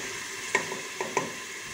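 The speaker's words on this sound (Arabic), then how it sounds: "هنايا جوج بصلات مشقوقين. كنحركهم شويه كلو هكا،" Two chopped onions sizzle steadily in a pan while a utensil stirs them, with a few light scrapes and taps over the constant frying hiss, close and fairly loud, with no talking.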